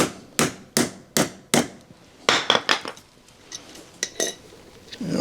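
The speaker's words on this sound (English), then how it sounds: "drive it home" A steel wedge is hammered into the wooden handle of a large ball peen hammer: a run of sharp, evenly spaced metallic strikes, then a quicker cluster and a few scattered taps.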